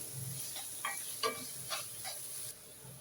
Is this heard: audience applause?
no